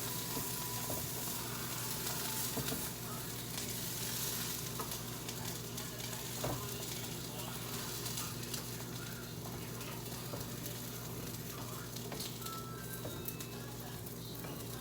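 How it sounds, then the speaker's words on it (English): Chicken and cheese quesadilla tortilla sizzling steadily on a grill just after being flipped, a continuous close frying hiss with faint birds in the background and no talk. "Now we're gonna flip our tortilla."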